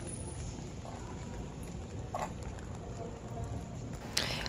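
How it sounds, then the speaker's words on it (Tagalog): Heavy rain falls steadily along the City of Naga boardwalk in Cebu, Philippines, during a walking tour, a continuous close patter with occasional sharper drips and a brief louder splash near the end. "Lumalakas yung ulan"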